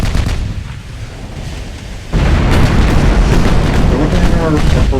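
In Ultimate Admiral Dreadnoughts, a hit on a warship's torpedo tube sets off a sudden loud blast midway through, which turns the rumble of naval gunfire into a heavier, sustained roar.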